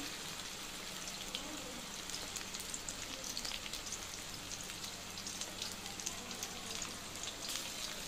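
Banana flower fritters frying in hot oil, a steady dense crackling sizzle with scattered pops running evenly throughout, close and alone with no talk.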